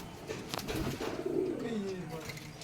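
Pigeons, likely Matraj pigeons, coo softly in a long, rising and falling call across most of the moment, close by, with a handler's voice speaking around them.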